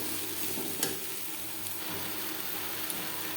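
Chopped potatoes sizzle steadily in a pan with spiced onion and garlic, a soft, even frying hiss broken by a few faint stirring clicks, with no talking.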